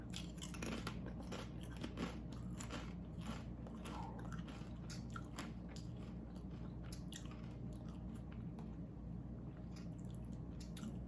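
Crunchy WILDE protein chips being bitten and chewed up close, a steady run of crisp crunches and mouth sounds over faint room hum, with no talking.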